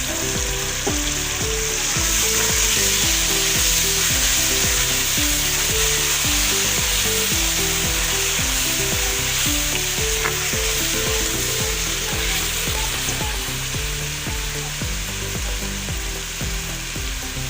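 Onions frying in a pan as tomatoes go in, with ginger-garlic paste already added, a steady loud sizzle and busy stirring scrapes throughout, no talking.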